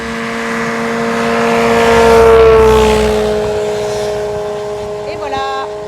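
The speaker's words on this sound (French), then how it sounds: "Ange est certainement en train de faire des essais moteurs" Ultralight aircraft engine running up at a controlled airfield, a steady droning whine that swells in pitch and loudness toward the middle, then settles back, with a voice talking faintly near the end.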